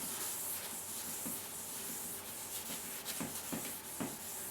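Soft, steady rubbing of cloth across a smooth surface, a continuous hiss-like swish with a few faint knocks, close and quiet, no talking.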